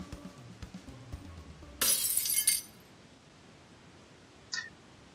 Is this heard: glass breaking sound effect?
yes